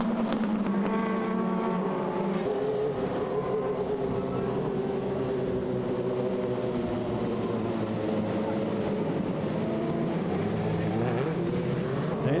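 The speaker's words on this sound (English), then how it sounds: "And we still have green lights as the car tries to move away." Midget speedway race car engine straining to pull away at a restart at Lismore Speedway, a loud continuous drone with shifting pitch, blending with other engines at night.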